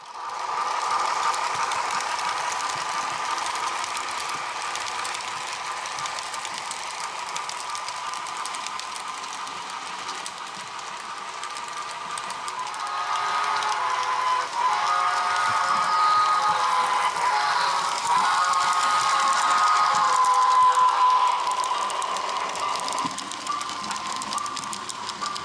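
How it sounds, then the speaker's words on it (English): An HO scale model Pennsylvania Railroad steam passenger train rolls into a major station with a steady mechanical whir and rattle that swells midway, close by and without voices. "The local passenger train arrives at a major station."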